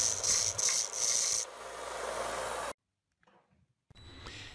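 Wooden tenon being fine-tuned by rubbing and rasping for a snug fit in a mallet head, a steady close scraping for nearly three seconds, then a pause and faint scuffs before the rasping resumes.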